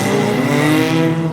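Race cars roar and accelerate at the green flag of the 2023 Old Milwaukee 30, a loud, dense engine drone with layered revving tones and no voices.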